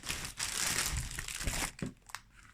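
Holographic paper crinkles and rustles up close while an advent calendar gift is unwrapped, a dense, continuous crackle that thins into a few sharper crinkles at the end.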